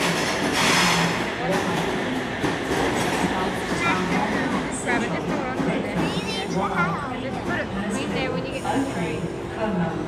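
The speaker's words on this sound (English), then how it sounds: "And here comes our train, which will take us to Central" A Sydney train pulls into a station with a loud, sustained rumble, rattling wheels and some metallic squeal, while voices talk over it throughout.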